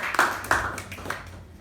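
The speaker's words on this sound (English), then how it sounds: "can we have a huge round of applause for the Master of Ceremonies?" Brief clapping for the Master of Ceremonies at a club meeting, a few scattered claps that quickly fade out.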